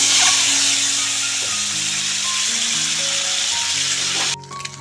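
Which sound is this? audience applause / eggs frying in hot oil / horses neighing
eggs frying in hot oil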